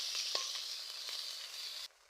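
Ginger and tomato sizzling in hot oil with salt, turmeric and chilli powder over a village clay stove, a steady close crackle lasting about two seconds before cutting off abruptly.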